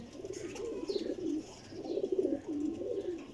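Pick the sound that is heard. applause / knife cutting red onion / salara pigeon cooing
salara pigeon cooing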